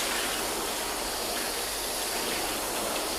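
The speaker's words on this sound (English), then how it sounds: "what I want to do now is just want to try and flood each section, see how hydrophobic they are" Water is poured over a car body panel coated in Turtle Wax, making a constant broadband gush and rush like a stream that stays loud and even from start to finish with no talk.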